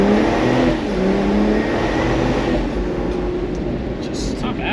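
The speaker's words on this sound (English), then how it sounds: "here's an off-road launch test" An INEOS Grenadier, center differential locked, launches hard off-road; a deep engine roar and rumbling drivetrain noise build from inside the cabin, loud and sustained, with a voice briefly heard over it.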